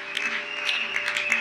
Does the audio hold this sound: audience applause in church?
yes